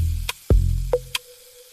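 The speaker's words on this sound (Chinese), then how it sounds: "这道菜的火力是要求猛火爆炒" Pork fat and fermented black beans are stir-fried over fierce heat in a wok, with loud sizzling broken by sharp clanks and scrapes of the utensil against the pan.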